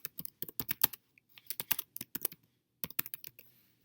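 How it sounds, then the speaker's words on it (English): Rapid typing on a computer keyboard while a project name is entered, close and clear: quick bursts of key clicks with a short pause in the middle, then a final run of keystrokes. No voices. "Type in the name of your project."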